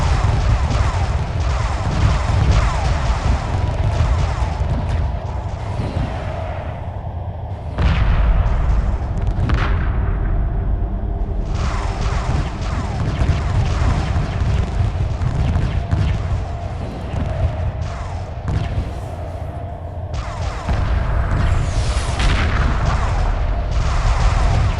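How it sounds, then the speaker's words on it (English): Weapons firing at an alien vessel in the video game Homeworld Remastered: a loud, dense barrage of booming blasts and crashing impacts runs without pause for about 25 seconds, with brief lulls between volleys. "Direct all fire at the alien ship in an attempt to disable the field."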